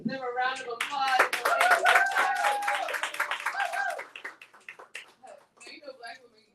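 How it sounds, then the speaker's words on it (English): An audience gives a round of applause at a talk on Black girls' hair stories in schools, with brisk clapping under cheering and excited voices that then fades into scattered claps and chatter. "Let's give them a round of applause"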